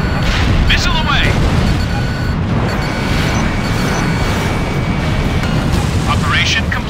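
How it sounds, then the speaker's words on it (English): Missile launch and explosions in the aerial combat video game Ace Combat Infinity: a continuous loud roar of jet and weapon noise with booming blasts and brief high whooshes, dense and sustained throughout. "Missile away."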